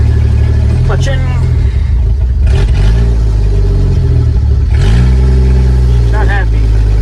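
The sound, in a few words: International Harvester L-130 truck engine revving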